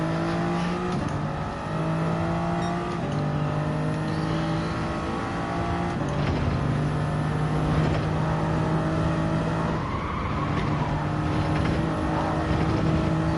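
Toyota Supra race car engine in Gran Turismo 7, droning loudly and steadily with gear-shift dips in pitch every few seconds as it accelerates, under a constant whooshing road and wind noise.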